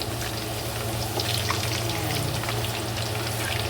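Potatoes dropped into hot frying oil, a loud, dense, steady sizzle and crackle that keeps going throughout, with no talk.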